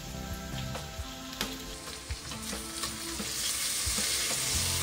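Onions, peppers and bacon frying in oil in a big pot, giving a dense, steady sizzle that swells slightly, with occasional spoon knocks and stirring scrapes, close and continuous.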